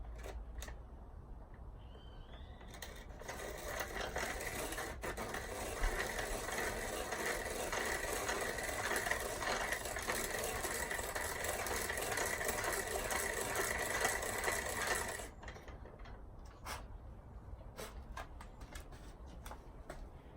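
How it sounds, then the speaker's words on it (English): Bench grinding wheel filing the ends of piston rings for a turbocharged 5.3 engine, a steady close rasping hiss that runs for about twelve seconds between quieter workshop pauses. "put it on this here grinding wheel"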